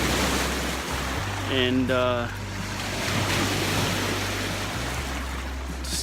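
Waves wash onto the shore at Marquette in a steady, loud rush of surf mixed with wind buffeting the microphone, while a voice briefly speaks over it.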